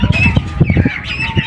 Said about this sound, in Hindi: यहाँ पे मुर्गियाँ भी खुली हुई हैं